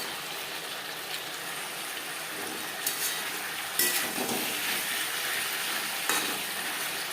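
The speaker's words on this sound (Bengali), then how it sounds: "হাই ফ্লেমে আরও 2-3 মিনিট নাড়াচাড়া করে নেব।" Green chillies and fish curry ingredients are stirred in a pan over a high flame, with a steady sizzle and frying hiss broken by a few scraping spoon strokes and light clanks against the metal.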